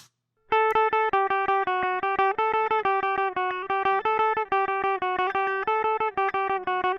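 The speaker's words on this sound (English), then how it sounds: "here's a guitar sample I recorded." A clean electric guitar plays a steady run of short, evenly picked notes, bright and close, with no other sounds.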